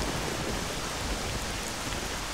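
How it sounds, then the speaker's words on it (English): Dense, even rainfall in S.T.A.L.K.E.R. Shadow of Chernobyl, a steady hiss of drops hitting surfaces that stays uniform and close for the whole stretch. "Fighting in the rain sucks."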